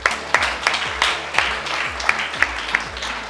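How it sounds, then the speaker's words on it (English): Audience applause at a primary school graduation ceremony, with sharp claps standing out over a thin murmur and a repeating low background tone, short and moderately loud. "Give them a round of applause."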